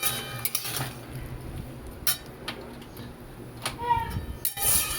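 Vegetables and powdered spices with a splash of water being stirred in a pan for a potato and pointed gourd curry, intermittent metal clinks and scrapes over a low simmering hiss.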